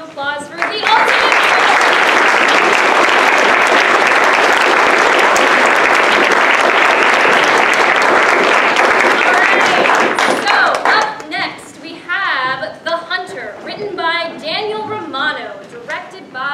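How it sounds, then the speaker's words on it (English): Audience applause at a ten-minute play competition, loud dense clapping sustained for about ten seconds before thinning into scattered individual claps and fading out. "can we get another round of applause for the ultimate?"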